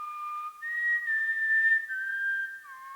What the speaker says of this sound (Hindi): तुम ये सीटी क्यों बजा रहे हो?